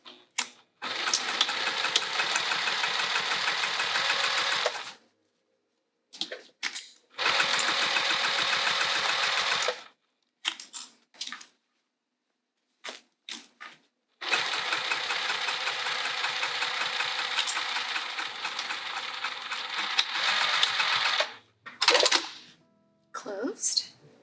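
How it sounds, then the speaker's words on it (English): A sewing machine closes a hole in a fabric spring roll pouch, running in several loud, close bursts of rapid whirring stitches separated by short pauses. "I'm just gonna machine sew that hole closed"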